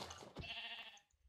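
A sheep bleating in a video game: one short, very faint wavering bleat, close but quiet, fading out after about a second.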